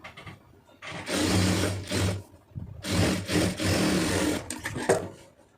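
A sewing machine stitches a lined blouse in several close, whirring runs of needle chatter, each lasting about a second or two and separated by brief pauses, with no speech over it.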